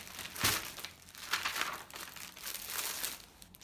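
A Modanisa clothing parcel being opened, its plastic packaging crinkling and rustling in repeated close bursts, with a sharper tearing crackle near the start and no talking.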